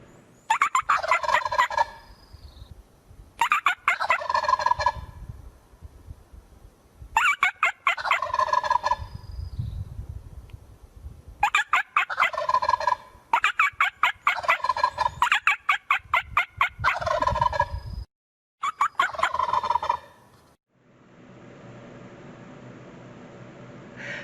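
A turkey gobbles repeatedly in loud, close bursts of rapid warbling calls, separated by brief pauses, with a faint hiss trailing at the end.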